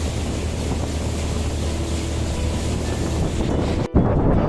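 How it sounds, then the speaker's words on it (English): A speedboat runs on the river at Bhedaghat near Jabalpur among the marble rocks, its engine roar mixed with strong wind buffeting and water rush, loud and continuous, with a sudden dropout just before the end. "You can experience here the speedboat ride that is out of the world."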